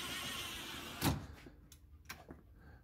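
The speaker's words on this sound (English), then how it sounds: "the Brisa sliding screen door" A white Brisa retractable sliding screen door mounted on an exterior frame slides with one quick loud swoosh, followed by a few fainter rattles and clicks.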